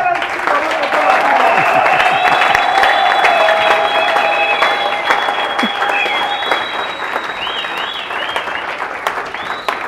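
A church congregation applauding in a sustained, dense burst of clapping that fades slightly toward the end, with voices and cheering mixed into the crowd noise.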